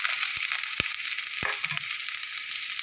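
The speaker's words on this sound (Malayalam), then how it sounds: "ഇനിയിപ്പോൾ അതിലേക്ക് അരിഞ്ഞു വെച്ചിരിക്കുന്ന സബോള ഇട്ട് കൊടുക്കാം" Chopped onion frying in a pan of oil for Kerala leaf thoran, a steady bright sizzle with a few soft knocks as it is stirred, close and continuous with no talking.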